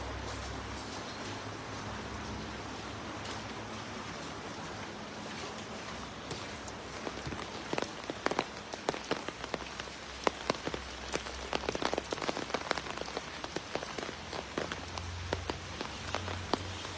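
Steady rain falls on a surface outdoors, with scattered louder drops and drips pattering irregularly over a constant wash, continuous and fairly close throughout.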